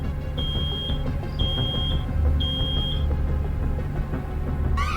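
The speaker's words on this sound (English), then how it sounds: "Oh no! Something's beeping." An alarm beeps in the video game Road 96: three steady, high-pitched electronic tones about half a second each, sounding over a low rumbling game soundscape, with a brief rising chirp at the very end.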